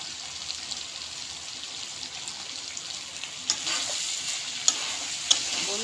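Soybean and chickpea curry, Rajasthani style with chicken masala, fries in a pan while being stirred, giving a steady close sizzle with occasional scraping clicks and taps, no voices.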